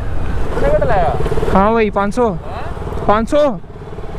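A motorcycle engine revs as the throttle is raised at a fuel stop, rising and falling in several whining swells under steady wind noise, while someone speaks over it.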